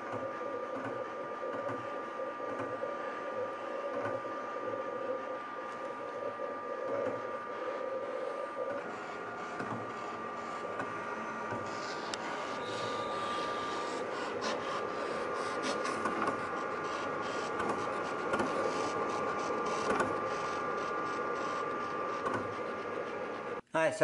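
A vinyl cutter slices strip flock heat transfer vinyl, giving a steady mechanical whir with a faint carriage hum that runs on for the whole stretch and ends with a short clunk.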